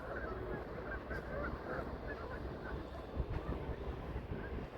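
A flock of geese honks at a distance on an open evening landscape near water, with faint calls scattered through steady wind rumble.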